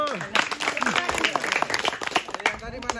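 A group claps their hands in quick, uneven bursts while voices talk and chatter over the clapping.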